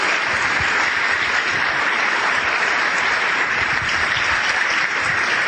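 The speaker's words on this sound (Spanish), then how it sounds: "Yo les pido para todos estos líderes un gran aplauso de agradecimiento." Sustained applause from a large seminar audience, dense and steady clapping filling the room at full volume throughout with no break.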